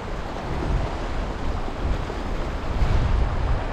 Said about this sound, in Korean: 근데 바람이 오른쪽에서 왼쪽으로 불어요